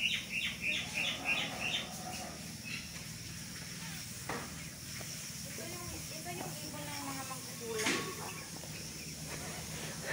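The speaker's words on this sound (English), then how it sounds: "Birds and bat here." Birds chirping in the greenery of Kadoorie Farm, a farm and garden, with quick repeated tweets early on and scattered calls later, fairly faint under a steady hiss of outdoor ambience.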